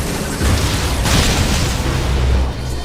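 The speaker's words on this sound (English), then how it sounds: "Now, use your missile!" Samus firing a missile in Metroid: Other M, a loud booming explosion with a dense roar that swells and holds for a couple of seconds before tailing off.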